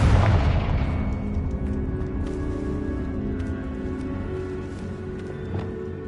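A Confringo fire-blast spell from Hogwarts Legacy erupts in a loud opening boom, then rumbles and rings out as a fading, crackling tail with a few faint pops.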